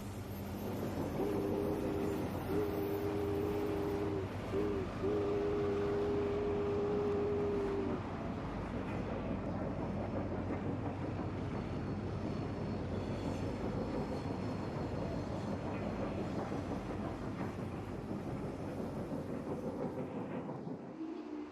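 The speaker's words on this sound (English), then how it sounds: "An Amtrak passenger special receives a slow order on approach to the busy Prestonville Yard." A brass model Amtrak FP45 locomotive pulls Superliner passenger cars on a layout on a slow approach to a busy yard, with a steady rolling rumble throughout and a brief tonal hum in the first several seconds.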